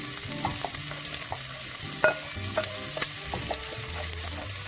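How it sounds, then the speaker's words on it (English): Sliced onions fry in olive oil in a stew pot, giving a steady close sizzle broken by occasional stirring scrapes and clinks, with no one talking. "And to the olive oil, I'm gonna be adding 3 chopped onions, like sliced onions, big ones."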